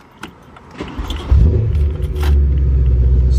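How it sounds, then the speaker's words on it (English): A high-mileage BMW M3 engine cranks and fires up, settling into a loud, deep, steady rumble close by, with a brief jingle of keys just before it catches. "Start it up."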